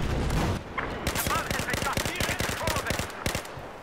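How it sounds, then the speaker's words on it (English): Rapid automatic gunfire crackles in a Battlefield 4 multiplayer match, a fast irregular string of sharp shots over several seconds with game background noise. "Somebody else is shooting me."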